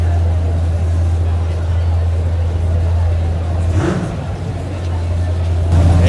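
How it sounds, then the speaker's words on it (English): A classic car engine idles at an outdoor car show in Hermosa Beach, with a steady low rumble running throughout and people chatting nearby over it. "look at the sound of the engine"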